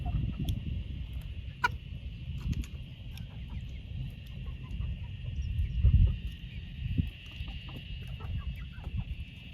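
Chickens cluck and murmur faintly at a distance beside a new electric poultry fence, scattered soft calls over a low outdoor rumble and a steady high hum.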